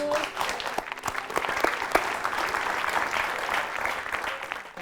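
Studio audience applauding for guest Indah on a TV talk show, a steady dense wash of clapping that holds throughout with a few sharper claps standing out near the start.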